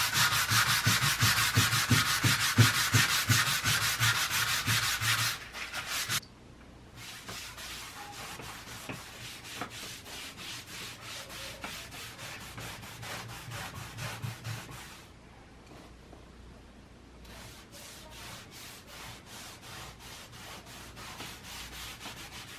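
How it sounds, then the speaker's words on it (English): Close, steady back-and-forth rasping of hand sanding on wooden furniture runs continuously, with short pauses and shifts in the sanding strokes partway through. "I can see I still need to sand it down a little bit more."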